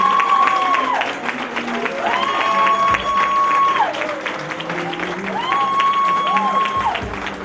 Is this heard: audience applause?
yes